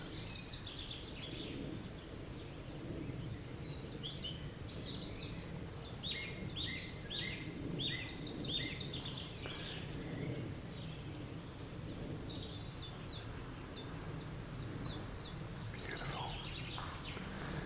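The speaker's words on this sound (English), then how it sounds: "Lots of birds. Have a listen." Birds sing and chirp outdoors in repeated quick trills, moderately distant, over a low rumble of wind or distant traffic.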